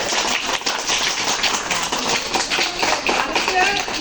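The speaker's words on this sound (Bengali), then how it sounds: "এত আসছে আরো জোরে হাততালি দিতে হবে" Children clapping their hands together at a gathering in Ashulia, Dhaka, a dense, steady patter of many small claps that runs throughout, with voices mixed in underneath.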